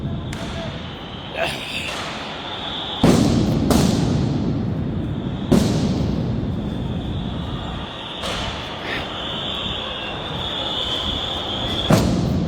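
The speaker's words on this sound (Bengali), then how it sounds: "একের পর এক সাউন্ড গ্রেনেডে কেঁপে উঠছে রাজধানীর শাহবাগ।" Sound grenades going off one after another at night at Shahbag, Dhaka, during police action, several sharp loud bangs spaced a few seconds apart over crowd noise and shouting voices.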